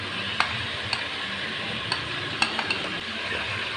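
Ginger garlic paste frying in hot ghee with chicken gives a steady soft sizzle, broken by a few light clicks and taps of a spoon against the pot.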